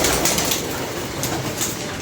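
A pair of pigeons is heard as soft, indistinct bird sounds set against a constant broadband rushing background, with no clear separate calls standing out over the two seconds.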